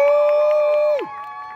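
A comedy juggling show crowd cheers and yells loudly, one sustained shout ringing over the noise before it drops off and the cheering fades slightly.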